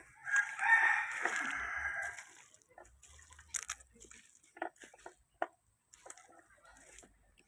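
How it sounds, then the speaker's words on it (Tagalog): Chickens in their coop, with a rooster crowing loudly and close at the start, followed by scattered clucks, pecking and scratching noises in quiet surroundings. "Tutuwa-tuwa yung mga manok."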